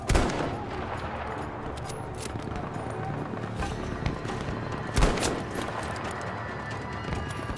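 Gunfire from a sniper rifle and other weapons in a Battlefield game, with dense ongoing battle noise and sharp, loud shots standing out near the start and around the middle.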